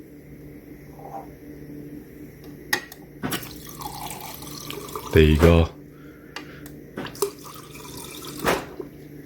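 Water runs from a refrigerator water line just cleared of a freeze clog, with brief splashing bursts and dripping between a man's spoken remarks at close range.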